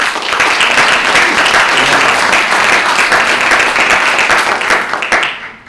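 Sustained, loud audience applause at a Turkish folk music concert: steady dense clapping from a large crowd lasting several seconds before tapering off at the end.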